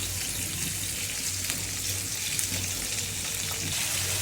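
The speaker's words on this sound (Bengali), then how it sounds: "পেঁয়াজটা ভাজা হয়ে গেছে," Chopped onion frying in oil for a big pangas fish curry, a steady broadband sizzle held at an even level throughout with a low hum underneath and no talking.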